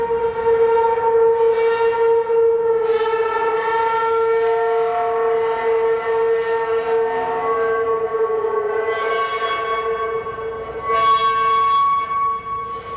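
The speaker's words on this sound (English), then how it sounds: "He grabbed an old clay coffee cup and scraped it across the surface." An old clay coffee cup scraped across a titanium sheet makes a loud, sustained singing drone, rich in ringing overtones that swell and waver throughout without pause.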